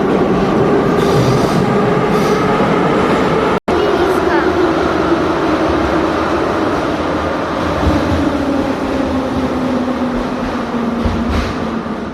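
Kyiv metro train running between stations, a loud steady roar of wheels and motor with a rising and falling whine, continuous throughout with a brief cut near the middle.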